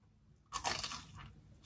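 A loud, crisp crunch as teeth bite into battered, deep-fried chip-shop food, followed by softer chewing that lingers close to the mic.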